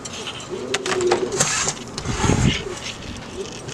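Pigeons in a breeding loft coo and flutter close by, soft throaty calls mixed with shuffling and background noise.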